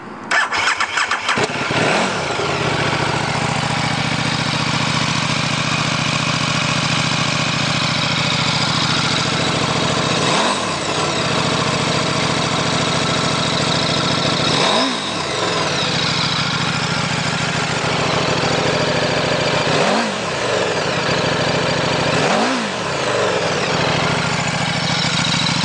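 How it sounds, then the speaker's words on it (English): A 2013 KTM RC8R 1190 V-twin sport motorcycle fires up with a quick crank, then idles with a throbbing rumble broken by four sharp throttle blips, heard close with no talk. "Love the sound of that V-twin."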